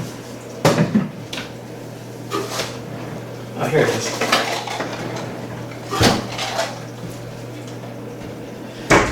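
A drawer is opened and its contents rummaged through, with clattering knocks and rattles of small items coming in bursts between pauses as someone speaks briefly.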